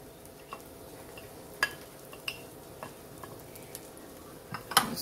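Peppers and onions spread across an omelette pan give a quiet, steady sizzle, with a few sharp spatula clicks and taps scattered through.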